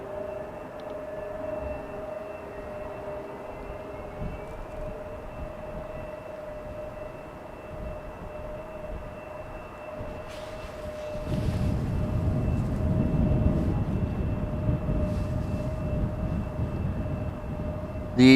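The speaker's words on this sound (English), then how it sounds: "The Pegasus Air is an A320neo off to Istanbul, Turkey" A Pegasus Air Airbus A320neo jet departs runway 36L at Amsterdam Schiphol, a distant low roar that swells sharply partway through and holds loud, with a steady tonal hum underneath.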